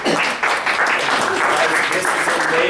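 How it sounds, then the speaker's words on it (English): A round of applause for standing board members at a primary care event, steady dense clapping filling the room, with some voices mixed in underneath. "Would you please stand up just so we can give you a round of applause?"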